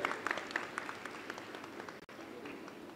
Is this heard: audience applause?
yes